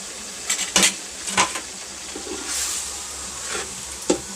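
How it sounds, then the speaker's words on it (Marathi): A spoon stirs 1.25 kg of semolina roasting in hot ghee with fried bananas in a pot for sheera prasad, giving intermittent metallic scrapes and clinks over a soft, steady frying hiss. "रवा चांगला भाजेपर्यंत आपण परतून घ्यायचा"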